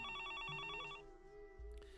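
A telephone rings through a phone booth receiver in a visual novel game scene: a repeating electronic ring pattern, then a lone sustained tone with a soft thud near the end, all fairly quiet with no speech.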